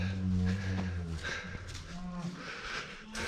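On a farm, a cow calf with a navel infection gives a couple of low, drawn-out moos at close range, with quiet sounds of livestock and people talking around it.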